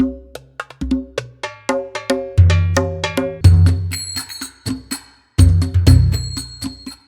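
A Middle Eastern percussion loop from a sample library, with crisp hand-drum strikes and clanking metallic hits in a busy, steady rhythm, loud and close with deep booming accents, no speech.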